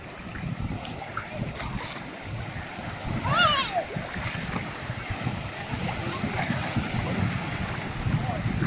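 Sea surf after a storm at a beach in Anapa, with waves washing in and splashing close to the phone, under strong wind buffeting on the microphone; a brief whistle-like sound cuts through midway.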